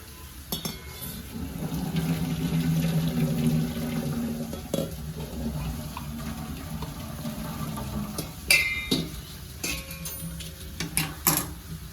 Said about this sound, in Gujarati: આ સ્ટેજે આપણે ગેસની ફ્લેમ ઓફ કરી અને આને છે એનું પાણી છે એ કાઢી લઈએ છીએ